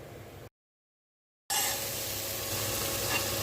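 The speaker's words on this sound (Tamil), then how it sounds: "காலிஃப்ளவர் வரும் வெங்காயம் காலிஃப்ளவர் போட்டு குழம்பு மிளகாய் போட்டு வறுத்துட்டு இருக்கோம்" Cauliflower and onion frying with chili in a hot pan: after a brief silent gap, a loud, steady sizzle fills the sound, close and continuous, with no voices.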